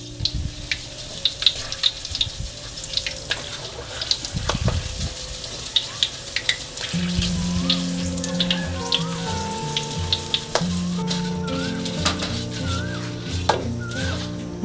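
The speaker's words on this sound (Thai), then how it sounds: "เมื่อน้ำมันร้อนค่ะ เราทอดใบมะกรูดเลยค่ะ" Kaffir lime leaves fry in hot oil in a pan over medium heat, a steady close crackling sizzle with scattered pops, with soft music playing underneath in the second half.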